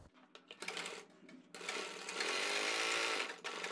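Sewing machine stitching the collar seam of a kurti, starting with short stuttering bursts, then running in a steady continuous whir for about two seconds before stopping briefly and restarting, close and fairly loud with no talk.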